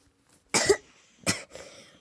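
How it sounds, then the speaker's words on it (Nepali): Two sharp coughs from one person, close and fairly loud, the second shorter and followed by a softer raspy tail, with near silence before and between them. "मलाई अलिक खोकी आइरहन्छ"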